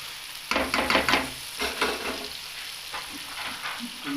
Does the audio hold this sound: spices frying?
yes